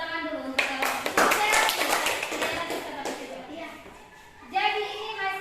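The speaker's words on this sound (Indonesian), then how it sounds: "Ini tepuk tangan dulu untuk kelompok" A classroom of children claps for a student group, brisk overlapping hand claps at close range mixed with children's chatter and a teacher's voice speaking over and after the clapping.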